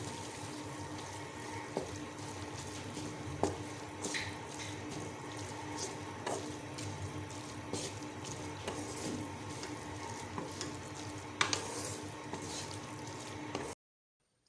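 Minced beef keema fries in a pan with a continuous hissing sizzle and occasional scraping clicks from stirring. The sound stays at a steady, moderate level throughout and there is no speech.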